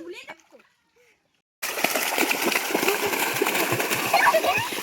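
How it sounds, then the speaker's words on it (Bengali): Children splashing in a village pond, a sudden loud burst of churning, slapping water that continues close by after a moment of quiet, with young voices heard just before it starts. "মামা বাড়িতে পুকুর পেয়েছে, পুকুর পেয়ে কি মজা নিচ্ছে দেখো।"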